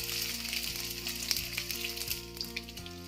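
Fish sizzling steadily in hot oil for a peppered jilebi fish fry, a continuous close crackle with faint stirring and no talk.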